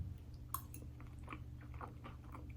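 Air-fried salmon belly chewed close to the mic, with soft, faint crunching bites in an irregular rhythm over a low background hum.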